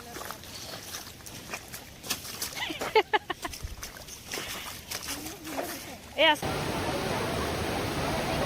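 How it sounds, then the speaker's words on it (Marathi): Water rushes steadily at the top of Kalu waterfall in misty Aadrai jungle, under a crowd and close talking, with the wash growing louder and fuller at the end. "आता मी आले आहे काळू धबधब्याच्या अगदी वरच्या बाजूला, जिथून हा धबधबा सुरू होतो"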